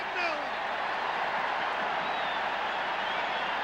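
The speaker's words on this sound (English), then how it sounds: "Just listen to the crowd." A large rugby crowd at a Ranfurly Shield match roars in a sustained, dense wash of cheering, loud and steady throughout with no lulls.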